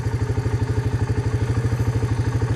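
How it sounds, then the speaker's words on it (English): A farm tractor hauling hay bales across a farm chugs with a fast, even, throbbing engine beat, a steady mid-distance rumble with light clatter and no voices. "You see a tractor going out"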